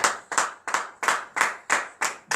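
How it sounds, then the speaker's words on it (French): Worshippers in a morning prayer service clap in unison, a loud, close rhythm of about seven sharp claps spaced evenly, each with a brief tail; no cheering voices stand out. "Donnez de vive acclamation à l'Éternel"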